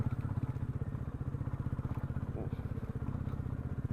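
Motorcycle labouring uphill in first gear on a ride through North Bengal and Sikkim, its engine giving a close, rapid low throbbing pulse that stays steady throughout.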